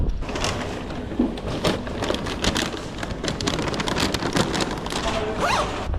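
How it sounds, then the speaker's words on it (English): Heavy rain pours down outdoors in a small town, a dense, continuous patter of drops with scattered louder taps close by, heard with no clear talking. "The rain's really coming down now"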